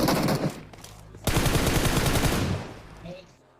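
Rapid automatic gunfire from a PUBG Mobile match crackles in loud bursts, a short volley and then a longer one that trails off.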